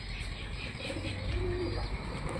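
A pigeon gives a low, faint coo while feeding another pigeon's chick, a brief throaty call set against a steady hiss of background insects and ambient noise.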